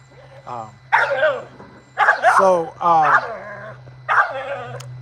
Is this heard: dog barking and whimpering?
yes